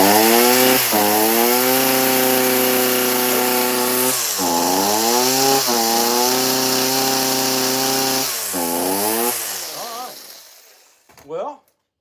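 A Stihl MS-170 chainsaw runs after muffler repair, a steady loud engine drone dipping and revving a few times before cutting out near the end.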